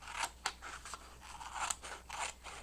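Scissors snip through a paper file folder to cut out a tag, giving a run of close, crisp cuts in an uneven rhythm with no talking.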